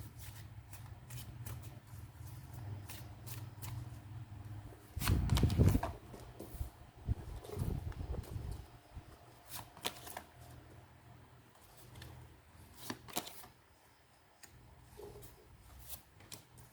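Tarot cards being shuffled by hand, repeated riffling and soft flicking bursts with a louder shuffle in the middle, close and intermittent, alone without talking.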